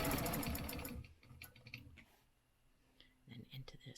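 A sewing machine runs in a fast burst of rapid stitching, then stops, leaving quieter clicks and handling noises, with a voice talking over parts of it.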